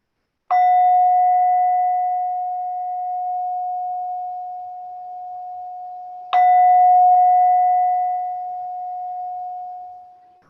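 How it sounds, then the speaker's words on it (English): A mindfulness bell is struck twice, several seconds apart, each strike giving a clear, pure ring that lingers and slowly fades in a quiet room. "with the sound of that bell, we come to the end of our practice"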